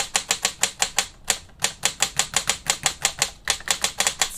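Modifier keys on an NCR80 mechanical keyboard fitted with a solenoid are typed in a fast, even series of sharp, loud clacks, about twenty strikes with one short pause, close-up and without talk.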